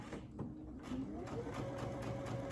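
A Brother Essence VM5200 sewing machine stitching a buttonhole, giving a faint, rapid, steady mechanical whir and needle ticking. Someone talks quietly over it.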